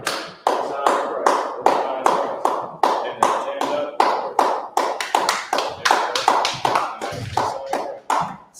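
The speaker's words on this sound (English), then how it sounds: "so clap it up for the Lord's Pastor" A small group at a religious class clap in a steady, rhythmic beat, sharp distinct claps repeating about twice per second for several seconds, fairly close and loud.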